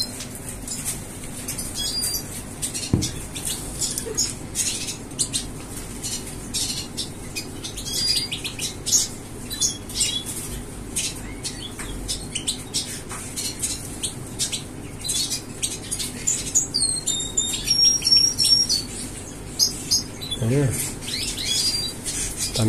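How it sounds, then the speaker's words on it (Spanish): House sparrows chirp in short, scattered bursts over a soft outdoor background, with occasional flutters and a few louder, busier stretches. "También vienen gorriones, a comer"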